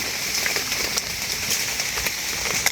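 Steady rain falls through a forest at Nong Mek during a mushroom-foraging walk, a dense even hiss with scattered sharper drops pattering on leaves, continuous and fairly close with no talk.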